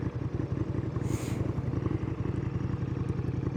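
Motorcycles ride past on a road in Germany, their engines making a pulsing mid-range rumble with clattering. The sound is fairly faint and brief, and no one talks.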